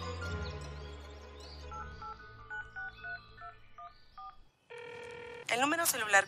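Telephone keypad dialing tones from a phone call in a drama series: a run of short, evenly spaced DTMF beeps, then a steady tone and a busier electronic burst at the end, with some speech-like sound underneath.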